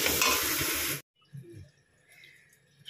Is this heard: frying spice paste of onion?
yes